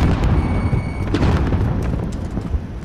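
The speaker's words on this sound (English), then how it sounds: "Throw a grenade." A grenade goes off in Call of Duty: Warzone with a loud, heavy boom that rolls on as a long rumbling tail, standing alone without talk.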